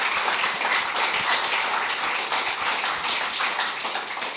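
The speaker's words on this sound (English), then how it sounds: "If we could give a round of applause to our incredible panel." A panel discussion audience bursts into steady, dense applause, many hands clapping at once for several seconds, moderately distant and without any voices.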